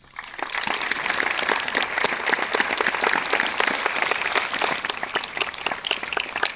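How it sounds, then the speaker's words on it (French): A crowd at a political gathering in Mantes-la-Jolie breaks into sustained applause, clapping rising quickly and staying loud and dense with individual claps distinct throughout. "c'est pour ça que je voudrais qu'on les applaudisse"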